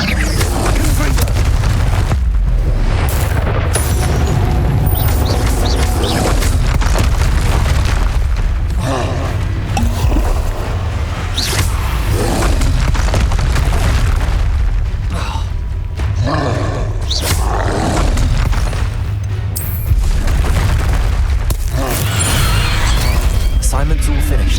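Confringo fire spells exploding in the PS5 game Hogwarts Legacy, a loud, continuous barrage of deep booms and blasts mixed with creaking, mechanical game effects.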